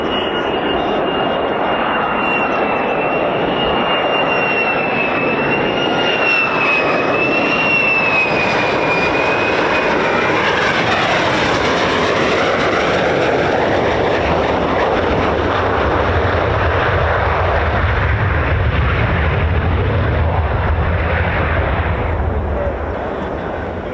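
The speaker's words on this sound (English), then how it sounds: "Look at that aerodynamic braking, using all that surface area of the undercarriage" An F-15 or F-35 fighter jet landing at RAF Lakenheath with aerodynamic braking, nose held high, gives a loud, close engine roar with a high whine that slowly falls in pitch as it rolls along the runway.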